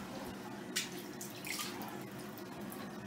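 Water runs steadily from a bathtub faucet straight down the open drain, a continuous close hiss and splash with a few brief louder gurgles.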